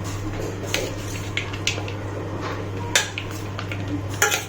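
Fresh fruit salad being stirred and mixed in a bowl with a spoon, giving soft squishy churning and scattered clinks of utensil against the bowl, close by over a steady low hum.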